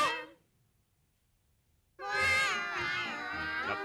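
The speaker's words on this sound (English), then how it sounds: "Starts to hear all the cats singing." Several cats meow together in a loud, close chorus of overlapping, wavering cries after a short yowl and two seconds of near silence, no talking.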